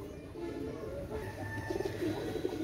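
Pigeons cooing softly and repeatedly close by, low throaty calls over a constant background hum, with no speech.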